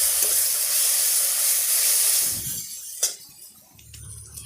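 A paste of dried and green chilies ground together on a grinding stone hits hot spiced oil with a loud, steady hiss that suddenly dies down, followed by a light clink and a softer sizzle.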